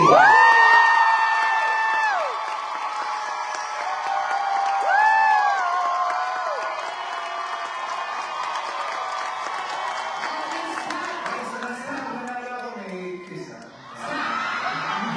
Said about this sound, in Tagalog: malalaman natin kung mananalo sa pamamagitan ng inyong palakpak at hiyawan